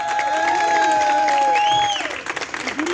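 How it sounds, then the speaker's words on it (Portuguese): Steady clapping from a crowd fills the moment, loud and continuous, with a sung or spoken voice gliding over it before the applause thins out. "E pode bater palmas que ela merece e merece mesmo."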